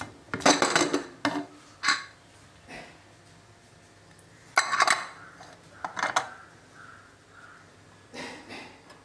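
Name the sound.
mutton biryani being moved from pressure cooker into a dish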